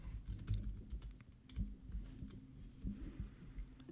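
Quiet typing on a computer keyboard, a steady run of soft key clicks in irregular bursts over a low background hum, with no talking.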